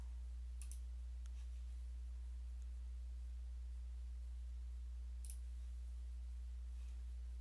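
Two sharp, faint computer mouse clicks, one near the start and one late, sit over a steady low electrical hum with long quiet stretches between them.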